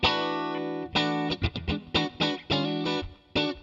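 An electric guitar played through the Fender Twin amp model of a NUX MG-300 rings out in clean, sustained chords and short choppy strums, with a spacious effect-coloured tone, loud and close with no talking.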